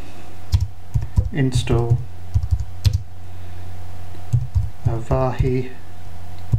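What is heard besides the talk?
typing a command on a computer keyboard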